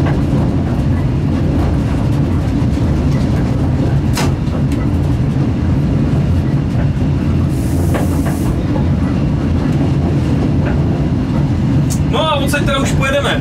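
A train runs on rails in a loud, continuous rumble heard from inside a locomotive cab, with rhythmic clatter, a brief hiss, and a person talking over it.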